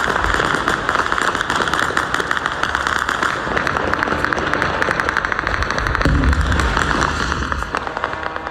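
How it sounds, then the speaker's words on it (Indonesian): Dense, rapid gunfire crackles continuously across the city of Erbil, Iraq, mixed with heavier booms of explosions, loud and unrelenting throughout with no voices. "rentetan senjata dan ledakan terdengar di berbagai titik di kota Erbil"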